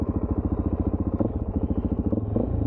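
A Suzuki DRZ400 supermoto fitted with a K&N air filter idles and blips up close, its single-cylinder engine thumping in a fast, even pulse with a brief rev near the middle and end.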